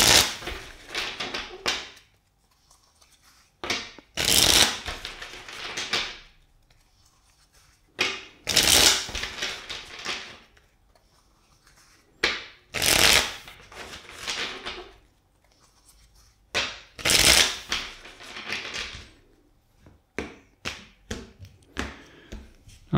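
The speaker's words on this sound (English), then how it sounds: "let's shuffle the deck for you four times" A deck of tarot cards is shuffled over and over in bursts of crisp riffling and rustling, broken by short quiet pauses, close and fairly loud with no talk.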